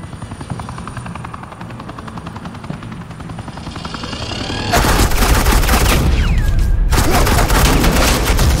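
Bursts of suppressing gunfire in the Batman: The Enemy Within video game, loud and dense over a constant helicopter-like rotor thrum that grows harsher partway through.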